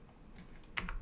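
A few quick computer keyboard keystrokes near the microphone during a Minecraft PvP session, faint taps followed by a short cluster of clicks.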